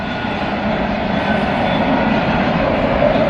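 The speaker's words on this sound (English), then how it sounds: "Boy, these rails are still singing." Railroad rails singing after a long freight train has passed in Walton, Kentucky: a steady, sustained metallic hum and rumble, fairly loud and even throughout with no talking.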